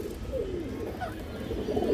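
Large domestic pigeons coo in low, soft, warbling phrases, a few overlapping calls close by over a steady background hum.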